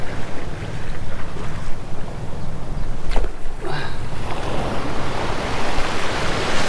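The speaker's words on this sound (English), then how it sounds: "It's best if you just wait for the surf to kind of recede a little bit." Ocean surf on Kaanapali Beach, Maui, washes in and recedes as a steady roar of breaking water, loud and close, with a brief swish in the middle and wind buffeting the microphone throughout.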